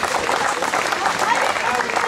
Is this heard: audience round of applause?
yes